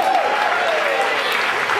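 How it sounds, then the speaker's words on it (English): Audience applause at a nerd-night talk on mathematicians, a continuous dense rush of clapping filling the short stretch, loud and even, with a faint voice briefly audible underneath. "so give a round of applause for him"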